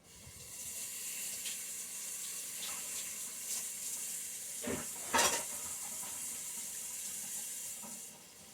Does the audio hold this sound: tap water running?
yes